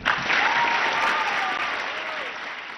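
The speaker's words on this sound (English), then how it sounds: "Please welcome with a warm round of applause, Jacinda Ardern" Audience in a packed school hall at Western Springs College breaks into steady, dense applause that fills the room, holding loud and even before easing slightly toward the end.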